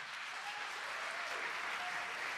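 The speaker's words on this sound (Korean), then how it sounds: "큰 박수로 맞아주시기 바랍니다" Steady applause from an audience greets the Suji High School team at the Incheon-Gyeonggi regional civil mock-trial competition stage. The clapping is a dense, continuous wash at moderate volume, with no voices over it.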